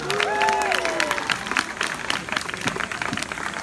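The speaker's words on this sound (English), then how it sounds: "A round of applause for Natalie." Applause from a comedy show audience, a dense wash of clapping that swells at the start and holds steady, with a whistle or cheer rising over it early on.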